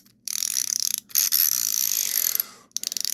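Rapid mechanical clicking from a Husky 12-in-1 ratcheting screwdriver, in several bursts separated by brief pauses, close up and fairly crisp.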